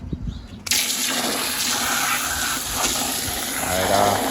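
Water gushes and pours steadily as aquarium sand is rinsed in a container, a loud continuous rush starting abruptly after a brief quieter moment.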